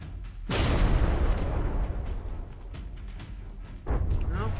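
A heavy artillery volley from warships in the naval combat game From the Depths erupts as a loud booming burst, rumbling and decaying over several seconds before a second blast hits, with no voices.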